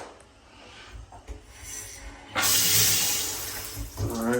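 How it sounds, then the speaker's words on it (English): A shower running in a house bathroom, its steady broadband hiss of water starting abruptly midway and continuing loud and close after quieter handling sounds. "Shower's working."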